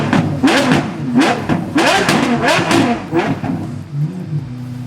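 A sports car engine revs hard several times in quick bursts, loud and close, each roar rising and falling back.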